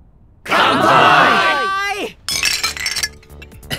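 Glasses clink together in a celebratory toast, a bright ringing chime following a burst of loud group shouting, with further clinks and ringing trailing off.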